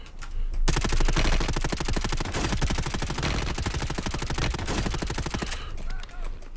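Sustained rapid automatic gunfire from a battle royale video game, a dense, loud burst of shots rattling almost continuously for several seconds before cutting off, with brief quieter gaps at the start and end.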